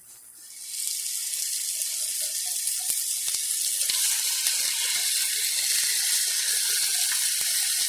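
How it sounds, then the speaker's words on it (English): A thick London broil steak sears in a hot pan, a bright hiss that swells suddenly and then holds steady and loud, with a few faint ticks scattered through it. "So I'm going to sear it a little bit to get it brown on the sides"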